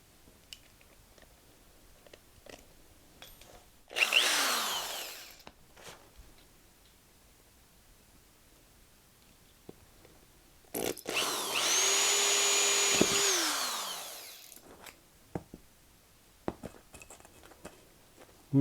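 A drill bores 3/32 starter holes into a 125B aluminium guitar pedal enclosure in two bursts, a short whine followed by a longer steady one, with small clicks and taps between them.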